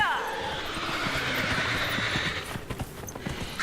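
A horse in the video game Dragon Age Inquisition, with a high whinny fading out at the start over a steady hiss, then hoof clip-clops and thuds toward the end.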